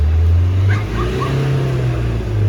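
A Renault Megane III engine revving in a workshop while a sensor fault is checked, a steady low engine drone swelling and easing close by, with a brief faint voice partway through.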